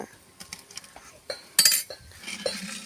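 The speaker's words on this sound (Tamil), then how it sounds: "இதை வந்து இந்த மாதிரி போட்டுட்டு இப்படி கிண்டி விட்டுறணும் நல்லா" A metal spoon stirs herbal powder into hot oil in a pot, producing irregular scrapes, clinks and taps against the vessel, with one louder bright clatter midway.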